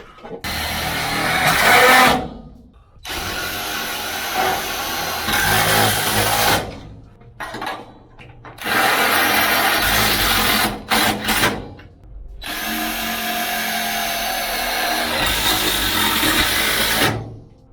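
A cordless power tool fastens a top strut onto a garage door, running in repeated loud bursts of whirring and revving separated by short pauses, close by with no talk.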